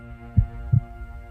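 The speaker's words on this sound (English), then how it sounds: "the thumps of what sounded to be a heartbeat emanated from somewhere within" Two heavy, low heartbeat thumps spaced evenly over a steady dull hum, used as a sound effect in an audiobook; close and muffled, with no voice.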